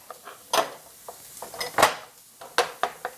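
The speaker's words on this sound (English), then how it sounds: "Crush a couple of cloves of garlic" A couple of garlic cloves being crushed in a kitchen, heard as a series of sharp knocks and clacks against a board or utensils, with quiet pauses between them and no talking.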